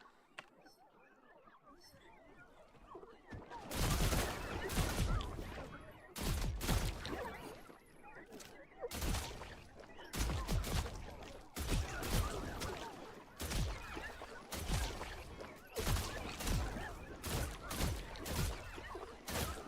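Rifle fire in the video game The Last Caretaker: a string of sharp, loud gunshots at irregular intervals over a low ambient bed, roughly a dozen reports spread across the stretch.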